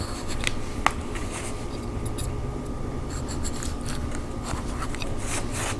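A knife cuts a V-shaped notch into a pickle, producing faint, scattered crisp scraping and snipping sounds over a steady background hum, close up with no talking.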